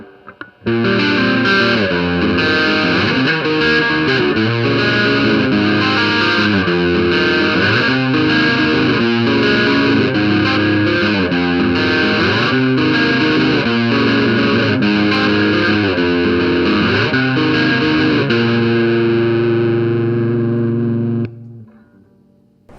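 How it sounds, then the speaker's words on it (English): Electric guitar played through an Electronic Audio Experiments LimeLight overdrive pedal with the gain fully up, giving a loud, dense, saturated wall of sustained distorted chords and notes for about twenty seconds before cutting off, with no talking. "I'm going to take the gain all the way up and see how crazy it goes"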